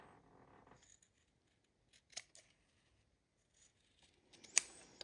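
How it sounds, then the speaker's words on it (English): Scissors trimming the corners off a sewn fabric drink coaster, with a few quiet, separated snips against near silence and one sharper cut toward the end. "we are cutting our 4 corners off"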